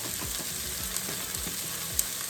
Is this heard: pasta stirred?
yes